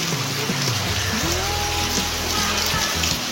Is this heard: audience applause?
no